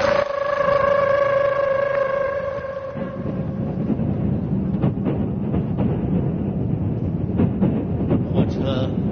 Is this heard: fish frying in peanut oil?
no